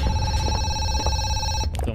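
A telephone rings in the horror video game Zoochosis, a steady electronic bell tone sounding loud and continuous for about two seconds before cutting off.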